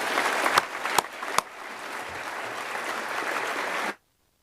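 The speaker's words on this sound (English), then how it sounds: "again, a round of applause for our winning Mathx teams." Applause at a secondary school assembly for winning maths teams, a broad wash of clapping from a large student audience with a few sharp nearby claps, holding steady before cutting off abruptly.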